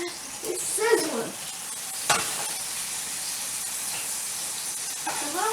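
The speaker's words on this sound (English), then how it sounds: "Sausage is cooking really good. I can hear it. You hear it sizzling?" Steady sizzling of Italian sausage frying in a pan, a continuous crackling hiss with a few sharper pops and faint background voices.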